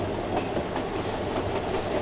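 A train rolls along the rails with a steady rumble and faint rhythmic clatter, heard from inside a carriage, continuous and moderately loud, without speech.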